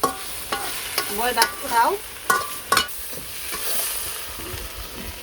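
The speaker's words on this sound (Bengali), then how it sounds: "তেল মাছগুলো ভালো করে ভেজে নিই" Prawns fry in hot oil for a desi-style prawn malai curry, giving a steady sizzle with stirring clatter; a voice speaks over it now and then.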